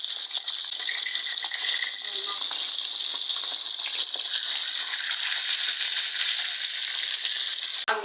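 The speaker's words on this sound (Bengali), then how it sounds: "এখন মাছগুলো ভেজে নিব" Fish sizzling in hot oil in a wok, a loud continuous crackling hiss held steady for several seconds, with a brief clatter near the end.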